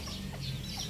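A short, close clucking call from a gamecock rooster, a brief burst of rough bird sound over steady background noise.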